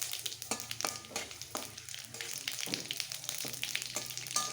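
Dried chilli, bay leaf, whole garam masala and cumin crackle in hot oil for a jackfruit curry, a close sizzling hiss punctuated by sharp spoon knocks and stirring scrapes.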